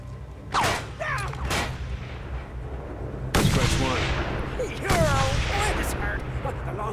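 Sniper rifle shots in the PlayStation 4 game Mad Max: two sharp, loud cracks roughly a second and a half apart, each with a ringing, echoing tail over steady engine rumble and game noise.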